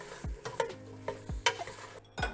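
Apple pieces with lemon juice are tossed in a pot on the stove, a few soft scraping stirs and clatters spaced about half a second apart over a quiet low simmer.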